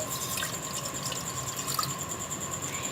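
Water poured into a pan for making mango jam, a steady splashing trickle that runs quietly and continuously with no voices.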